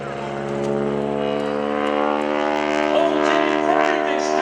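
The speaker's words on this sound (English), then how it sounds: "I love the sound of that slapping prop." A Stearman biplane flying aerobatics at the 2012 Greenwood Lake Airshow, its propeller slapping over a steady droning engine with strong harmonic tones that hold through the clip, while a commentator talks over it.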